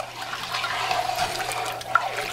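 Salt brine heats in a pot on a high burner, giving a soft watery hiss and faint sizzle of salt on the bottom, steady and quiet with a small pop near the end.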